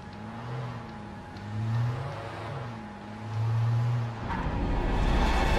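An American car drives in the Alan Wake video game, its engine droning with rhythmic rises and falls in pitch as it revs, then shifting to a rougher, louder rumble at the end.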